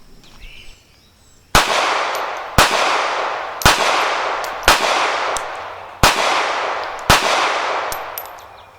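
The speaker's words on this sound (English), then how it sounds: "let's go ahead and get to shooting" Six sharp gunshots from a Kahr P380 pistol at a shooting range, fired about one second apart, each a loud crack followed by a ringing decay, after a short quiet lead-in.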